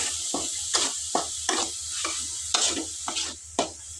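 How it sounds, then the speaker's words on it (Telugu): A spoon stirs salt and chili powder into a chana dal curry in a pan, giving repeated scraping strokes about every half second over a steady close sizzle, with no talk. "మొత్తం ఉప్పు కారం కలిసేలాగా బాగా కలుసుకోవాలి"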